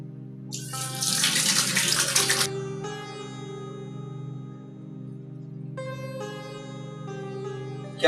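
A tap runs for about eight seconds in a short-film scene while someone washes their hands, with a louder gushing splash in the first couple of seconds over a steady, sustained hum.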